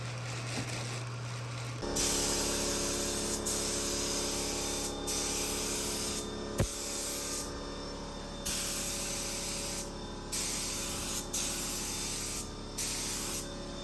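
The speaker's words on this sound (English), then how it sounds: "now we got all the base coat laid down on all these parts here" Spray gun laying metallic base coat onto car parts for a rebuilt VW Tiguan in a cold shop, a steady close hiss running in long bursts with brief pauses between passes.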